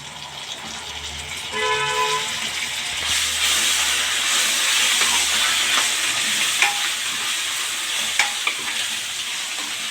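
Ginger paste is stirred into onions frying in a pan for a fish curry, giving a loud, steady sizzle and hiss with scraping stirring strokes and a few clinks near the end.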